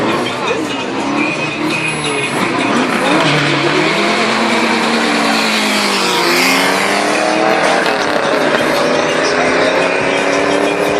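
A Chevrolet Camaro and a Toyota MR2 drag racing at a strip roar loudly under full acceleration, with engine pitch climbing through the gears and staying dominant for the whole stretch while a commentator talks over them.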